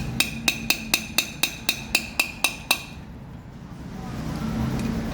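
A gearbox bearing is hammered into place with about ten evenly spaced, ringing metallic strikes, loud and close, and then low background noise remains.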